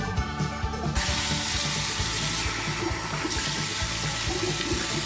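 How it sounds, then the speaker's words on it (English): Running water splashes steadily at a sink as someone washes their face, a continuous close wash of flowing tap water with small clattering touches throughout, no talking. "Show them when I'm washing it."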